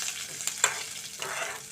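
Gongura leaves and green chilies frying in oil in a pan, a soft steady sizzle broken by a few sharp crackles and the scrape of stirring, heard close and fairly quiet with no talking.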